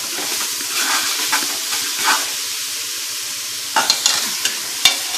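Mint leaves fry in hot tempering oil for a vegetable palav, giving a steady close sizzle with repeated spoon-stirring scrapes and clicks, sharper bursts near the end, and no talking.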